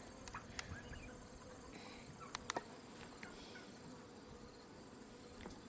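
Honeybees hum in a steady, fairly quiet drone while hive frames are lifted out, with a few sharp wooden clicks and knocks from the frames.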